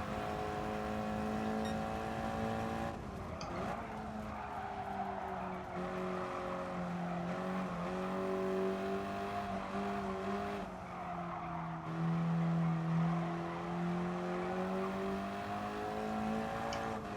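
Race car engine from the GT Sport racing game, a steady droning whine that rises and falls in pitch through gear changes, loud and continuous, with tire squeal layered over it and no talk.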